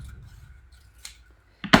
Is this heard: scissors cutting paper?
yes